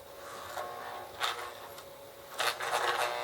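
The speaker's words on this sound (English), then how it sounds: "E-unit cycles good." Marx 21 diesel toy train's E-unit cycling: faint mechanical clicks and brief ratcheting bursts with small clunks, quiet and close, without talk.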